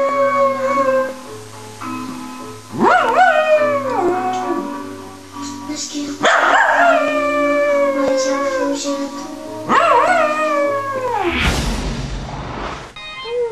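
A dog howls in long, wavering, song-like phrases, several drawn-out howls rising and falling in pitch with short pauses between them, loud and close, over a faint repeating backing tune.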